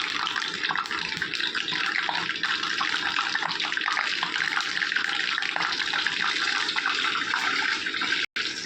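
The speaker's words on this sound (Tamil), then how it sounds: "கடுகு உரிச்சு கருவேப்பிலை போடுறேன்" Curry leaves and mustard seeds sizzling in hot sesame oil, a loud, dense, continuous hiss and crackle from close by that cuts off abruptly for a moment near the end.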